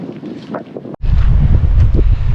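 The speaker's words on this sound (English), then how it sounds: "we're on the ocean side now, so I think it is going to get windy" Loud, low rumbling ocean wind buffeting the microphone aboard a sailboat, briefly cutting out before surging back in a heavy, continuous roar.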